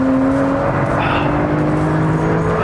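A brand-new Porsche 991 Turbo with all-wheel drive and a turbocharged engine powers out of a corner on a racetrack, its engine a loud, steady droning roar with a rising whine, heard close and continuous.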